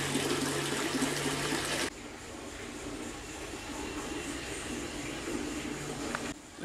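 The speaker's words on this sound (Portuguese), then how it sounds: "Essa tem 3 caídas de água. Essas duas tá bem forte," Several water spouts in Caxambu pour down with a steady, loud broadband rush, two strong flows and one weaker, the noise dropping a little partway through then continuing evenly without talk.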